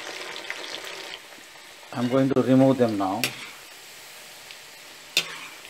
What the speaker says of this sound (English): Now, French fries, these are fried now for the first time